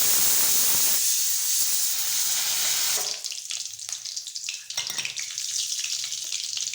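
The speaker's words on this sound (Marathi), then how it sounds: "तेल गरम झालं आहे, याच्यामध्ये जिरं आणि मोहरी टाकून" Cumin and mustard seeds dropped into hot oil for dal tadka, giving a loud, continuous sizzling hiss that turns more crackly and uneven after a few seconds, close up and with no talking.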